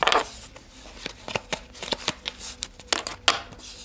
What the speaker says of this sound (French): Allez, choisissons les cartes tactiques de Norovas